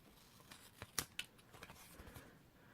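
Scissors snipping the corners of paper for a mini album, a few quiet close-up crisp snips with small rustles between them.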